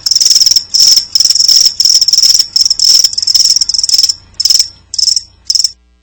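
Crickets chirping in a radio advert: loud, close, steady pulsed chirps in quick repeated bursts with short gaps, alone, with no voices.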